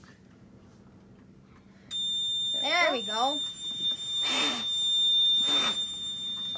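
A smoke detector in a fire alarm system test emits a steady, piercing high-pitched alarm tone that starts abruptly and holds continuously, while people talk nearby over it.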